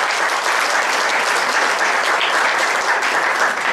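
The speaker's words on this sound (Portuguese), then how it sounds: "Vamos dar umas palmas para todos os grupos." Applause for all the groups at an assembly, steady dense clapping from a room full of people, loud and continuous throughout with no speech.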